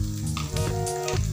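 Tomato cooks in a sizzling tempering of hot oil, giving a brief, close crackle of frying under a steady, tonal background hum.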